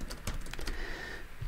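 A quick run of computer keyboard keystrokes, close and fairly loud, with a few rapid taps at the start and a final click after a short pause.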